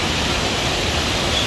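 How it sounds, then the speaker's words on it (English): A waterfall on a walk in the Brecon Beacons roars as a loud, constant rush of falling water, close and unbroken, with no voices over it. "Waterfall after waterfall."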